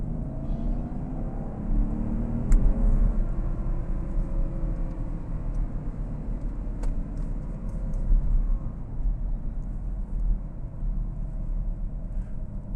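A 2012 Porsche Cayenne S with a V8 accelerates in a steady low engine drone with rising rumble and wind noise, heard from inside the cabin with no talk over it.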